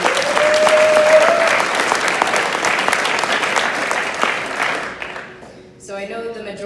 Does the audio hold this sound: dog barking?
no